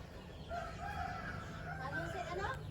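Warbling fowl calls, a few gobbling, wavering cries from turkeys at moderate distance, faint against a low background hum.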